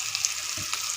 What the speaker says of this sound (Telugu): చూడండి కూర ఉల్లిపాయలు బాగా మగ్గుతున్నాయి కదా.